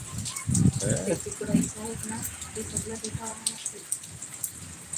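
Monsoon rain falls in a steady, hissing patter close by, with a voice talking over it during the first half.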